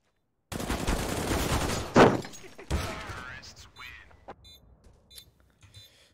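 Gunfire from a Counter-Strike match on the Dust 2 map crackles in a dense burst, then a sharp loud shot, followed by scattered fainter shots and clicks while players talk.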